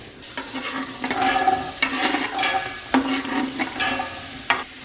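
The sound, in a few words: sauteing onions, celery and carrots together in a pan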